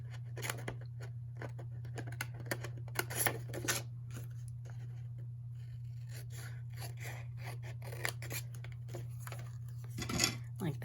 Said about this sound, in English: So now you're going to cut on those lines.